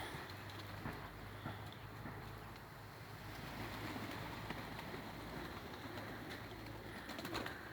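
Pigeons coo faintly from nearby while settling near water, a low repeated murmur under steady outdoor background noise, with a few soft flutters and taps.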